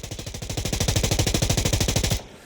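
A SIG M250 LMG fires a long, controlled full-auto burst in the shooter game Insurgency Sandstorm. Loud, close, steady shots ring out for about two seconds, then cut off into a brief decaying tail.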